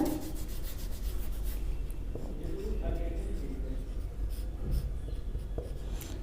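Pen scratching on paper as a math answer is written by hand, a steady close rubbing and scraping while a man explains in Hindi.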